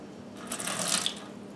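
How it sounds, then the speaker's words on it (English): Water poured over a treated hat splashes and runs straight off the surface in a brief, soft trickle lasting about a second, with no talk. "I pour water on it, it just shoots off."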